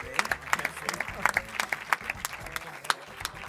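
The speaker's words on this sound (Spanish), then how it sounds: "Muy bien, un aplauso." Audience applause at a short-film gala, distinct individual claps in an uneven rhythm from a modest crowd, fairly close, with some voices underneath.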